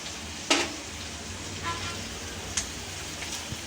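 Chopped broad beans stir-fry in a pan for a South Indian poriyal, giving a steady sizzle with a few sharp clatters from the spatula scraping and stirring.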